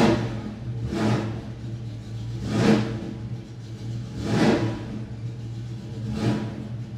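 A 1967 Ford Mustang convertible engine being revved, four evenly spaced throttle blips rising and falling over a steady idle rumble, close and loud with no talk.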